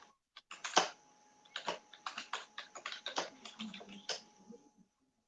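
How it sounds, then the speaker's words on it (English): Irregular bursts of keyboard typing, crisp clicks clustered in quick runs with brief pauses, close by and fairly quiet, with no talking. "Yeah, that's me typing."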